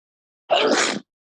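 A single short sneeze, sharp and close, standing alone in near silence.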